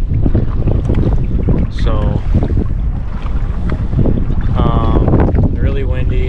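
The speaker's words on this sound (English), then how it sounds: "really windy. You guys can see the waves behind me." Strong wind on Ross Lake buffets the microphone in loud, constant gusts, with a voice speaking briefly over the roar.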